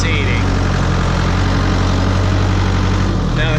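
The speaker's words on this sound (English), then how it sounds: "Now the tractor I'm driving is a New Holland" A 2000 New Holland TL80 tractor with an 80-horsepower engine idles on a dairy farm, giving a loud, steady, close diesel rumble that never lets up.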